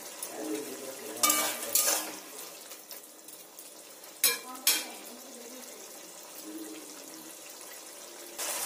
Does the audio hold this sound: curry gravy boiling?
yes